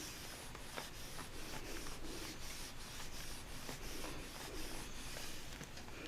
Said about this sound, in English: rub it both directions so we get a good imprint.